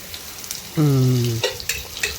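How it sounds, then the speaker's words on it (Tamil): Paneer frying in a little oil gives a faint, steady sizzle, briefly covered by a loud sustained humming tone before soft clicks and crackles return. "நல்லா ஃப்ரை ஆகிட்டு இருக்குது பன்னீர்."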